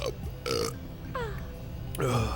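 Burping from a character in the Jak and Daxter video game: a few short, throaty belches spread across a couple of seconds, loud and close over game music and effects.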